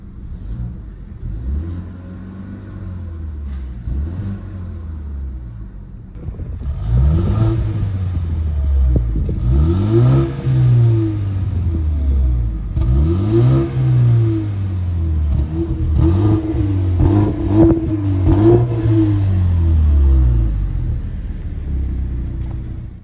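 A BMW 3 Series engine cranks and starts via push button, then revs repeatedly in loud rising and falling bursts over a steady rumbling idle.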